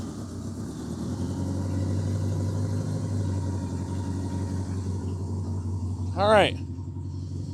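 A Honda Goldwing engine idles with a steady low rumble while warming up, and a brief whining sweep rises near the end as a voice speaks briefly.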